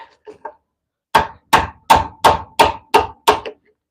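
Hand chiseling into wood for a carving: a few light taps, then seven evenly spaced, sharp mallet blows ringing out loud and close, with no talk over them.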